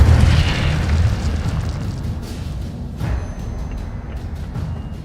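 Fiery blast of the Incendio spell in Hogwarts Legacy, a loud close whoosh and boom at the start that rolls off into crackling rumble, with a second, softer burst about three seconds in.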